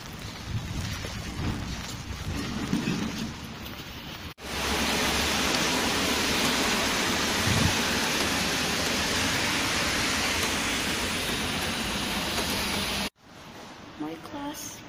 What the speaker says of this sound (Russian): Апрель, а у нас дождь идет.